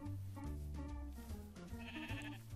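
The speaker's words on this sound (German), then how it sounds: "das sind zwei Schafe und die Freunde" Sheep bleat in a video game, a few wavering calls rising over a steady tonal game soundtrack, moderately loud with no talk.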